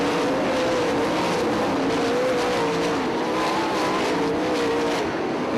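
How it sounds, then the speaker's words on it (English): Sprint race cars roar around a dirt racetrack in an ASCS series event, engines howling loud and continuous with rising and falling pitch as several cars pass close together. "Car slides up the racetrack."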